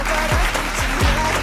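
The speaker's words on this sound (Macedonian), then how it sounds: "ве молам со еден огромен аплауз да го поздравиме нашиот пајак" Studio audience applause on a Macedonian TV music show, a dense run of clapping heard up close, with a few sharp low thumps under it.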